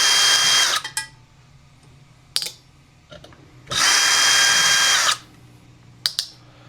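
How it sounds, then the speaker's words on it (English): Power drill backing screws out of a 30-inch YKXONFA ceiling fan, heard as two sustained whirring bursts separated by short clicks and gaps, close and loud with no talking. "You can take it off by hand, or you can use a drill to go a little quicker."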